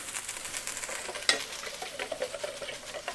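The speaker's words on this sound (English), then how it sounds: "get your handy dandy whisk" Quick whisking of a mushroom marinade in a bowl, a steady close swishing and light clinking of the whisk throughout, with one sharper tap partway through.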